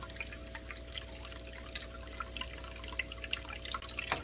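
Aquarium sponge filter running on an air hose, water bubbling and trickling steadily at a low, even level with small splashy pops, no voices.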